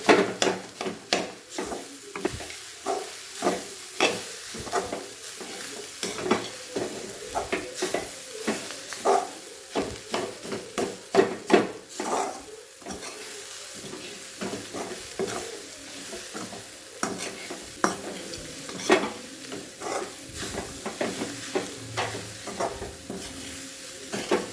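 Crumbled roti oggarane, a North Karnataka dish, being stirred and fried in a pan: repeated scraping and clinking of a spoon against metal over a soft continuous sizzle, irregular strokes throughout, with no talk.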